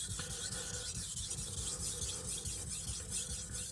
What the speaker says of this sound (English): So now I feel confident just sharpening away like this.